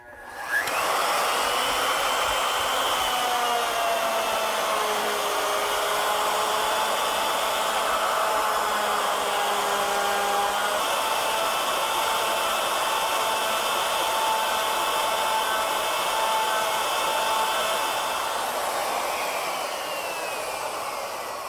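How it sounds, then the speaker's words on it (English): A lathe motor spins a metal workpiece, making a steady loud whirring hum with faint shifting tones throughout, running alone with no talk. "We're going to go ahead and let the motor rotate the workpiece, and we'll leave the split nut open and just slide it now about 1/8 of an inch each time."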